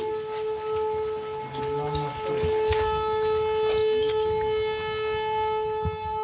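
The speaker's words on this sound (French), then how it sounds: "La sirène ne cesse de retentir." A steady, piercing air-raid siren wails on and on at a distance amid a war offensive in Donbass, with scattered background noise and rustling around it.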